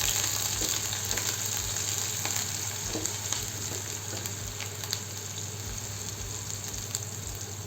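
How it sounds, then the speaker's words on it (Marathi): Chopped onions fry on low heat in a pan, a steady soft sizzle with faint scraping as they are stirred, heard alone and close. "कांदे आहे चिरलेले, असं छान हलवून घ्यायचं."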